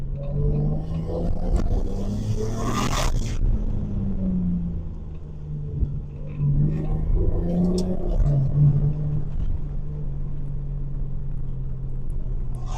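Recorded from inside a Mercedes 190E fitted with a BMW automatic transmission while it drives along: a steady low engine rumble whose pitch climbs and drops back as the gearbox shifts, with no one talking.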